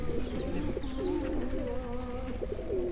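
Pigeons coo close by in a continuous, low, rolling murmur with overlapping warbling calls, and no one speaks.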